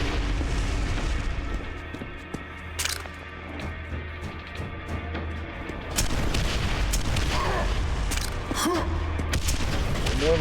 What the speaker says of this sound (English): And I got the rocket launcher.